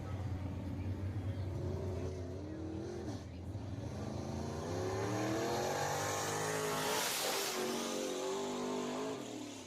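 A race car engine revs hard during qualifying at Deep South Speedway, rising and falling through the gears with a loud surge as it passes close around seven seconds, then pulling away.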